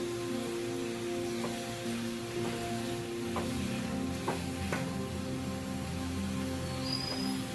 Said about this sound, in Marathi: आता याला पूर्ण मिक्स करून घ्यायचं आहे